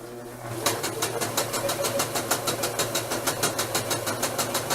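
A sewing machine stitching close to the folded edge of stretch fabric for a turban, a steady rhythmic run of evenly spaced needle thumps, fairly close and continuous after a brief start.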